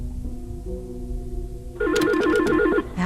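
A telephone rings for an incoming call, a bright warbling electronic ring pulsing rapidly for about a second after a low droning hum, loud and close.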